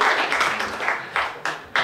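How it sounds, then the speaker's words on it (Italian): An audience at a public talk on nuclear energy in Conegliano breaks into brief, dense applause, with many hands clapping close together for under two seconds. "Un applauso al signore che viene da Brescia per la mia domanda."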